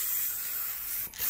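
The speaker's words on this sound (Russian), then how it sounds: "Я переворачиваю баллончик, чтобы выдуть." An aerosol spray can, held upside down, blows out a steady, loud hiss of gas while a homemade air turbine is being made; the spray runs continuously, dips briefly near the end, then resumes.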